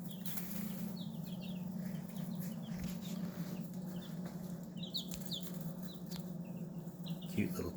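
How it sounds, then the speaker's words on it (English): Many young turkey poults peep in quick, high chirps over a steady low hum under a heat lamp, with soft rustling and fluttering in between. "Cute little turkeys."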